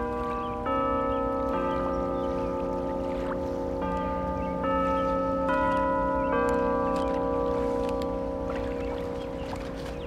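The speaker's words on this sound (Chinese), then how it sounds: "这钟声， 我们从小听到大的" Large bells ring out in a slow series of sustained, overlapping metallic strikes, each tone lingering and decaying into the next, loud and resonant over a low steady background with no speech.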